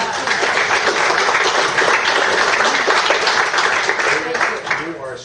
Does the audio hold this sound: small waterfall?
no